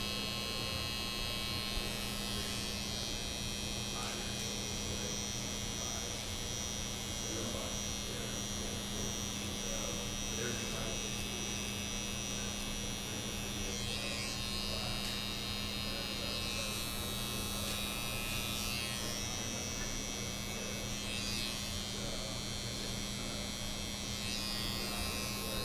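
An electric beard trimmer buzzes steadily while a barber trims a man's beard during a Viking-style haircut, a constant close whirring hum that runs unbroken for the whole stretch.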